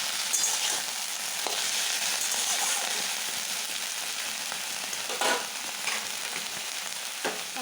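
Washed drumstick flowers hit hot oil in a frying pan, making a steady, close crackling sizzle that carries on throughout, with a few louder stirring scrapes.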